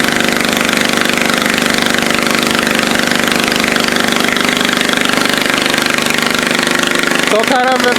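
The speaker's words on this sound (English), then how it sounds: "there's that auger that goes up into the building, into the corn stove." A grain bin auger running to feed corn up to a farm building's corn stove, producing a steady, loud mechanical drone with a rhythmic knocking hum, close by, before a brief change in tone at the end.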